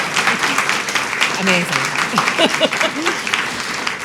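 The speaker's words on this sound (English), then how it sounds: "can we just give a round of applause to Casey Parks?" Audience at a book festival conversation applauding author Casey Parks, a dense steady wash of clapping with voices calling out over it.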